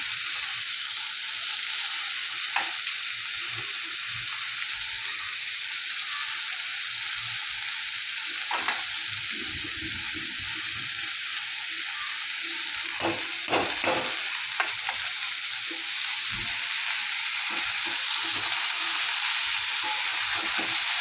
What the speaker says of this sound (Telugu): ఇలా కొంచెం కలిపెడుతూ ఉండాలండి, లేకపోతే అంటుకుంటుంది